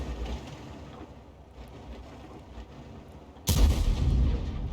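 A single loud tank cannon shot booms out in World of Tanks, cutting sharply through quieter ambient battle rumble.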